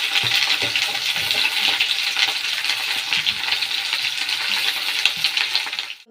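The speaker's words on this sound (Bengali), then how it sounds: "আর এবার এই ভেন্ডি আলুটা এর মধ্যে দিয়ে দেবো।" Okra and potatoes hit hot oil seasoned with nigella seeds, giving a steady, close, loud frying sizzle with a few soft stirring knocks, running evenly before dropping off at the very end.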